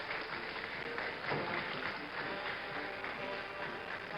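A crowd of sailors cheers and applauds as the three Apollo 11 astronauts, Armstrong, Aldrin and Collins, emerge; a steady, dense wash of distant clapping and cheering fills the whole stretch, somewhat muffled and broadcast-like.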